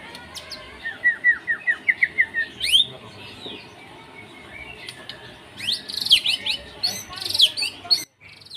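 A murai batu, the white-rumped shama, sings up close in clear, bright phrases: a run of rising whistled notes, a pause, then denser chirping trills, with faint background noise.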